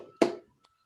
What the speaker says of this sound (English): I'm clapping on everyone's behalf